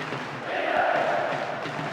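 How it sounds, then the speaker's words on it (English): Crowd noise swells in the PES 10 football video game, a sustained broadband roar rising in the middle of the two seconds with no commentary over it. "that's really got the crowd going"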